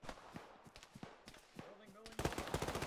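Gunfire from a military video game: scattered sharp shots early, then a loud burst of rapid automatic fire at the end, with faint voices talking.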